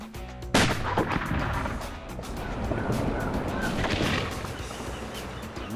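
Rifle fired at a crocodile near bait on an African river hunt: one sharp loud shot with a rolling boom, followed by lingering outdoor rumble and noise.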